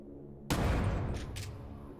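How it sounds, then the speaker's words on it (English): A thrown grenade goes off in Crow Country with a sudden loud blast that booms and then rumbles and decays over the next second and a half, with no talk over it. "I'll throw a grenade at him."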